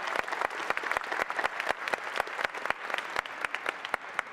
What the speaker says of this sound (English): we applaud you even if I can't point you out